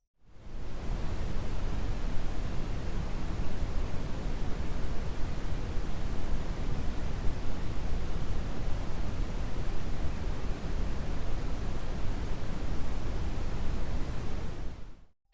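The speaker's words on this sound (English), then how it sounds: "So what exactly is white noise? Well, let me start out by playing you a quick sample." A steady sample of white noise plays loud and unbroken for about fifteen seconds, a dense, even hiss that fades in and out at the ends, with no voices.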